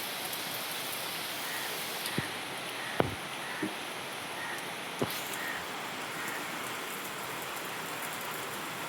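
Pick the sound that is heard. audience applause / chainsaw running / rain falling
rain falling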